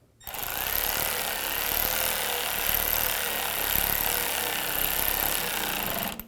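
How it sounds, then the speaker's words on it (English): A nut being tightened on the front lower ball joint of a 2003-2010 BMW X3, a loud, steady buzzing rattle of a power tool running continuously for about six seconds. "And gently tighten this nut up."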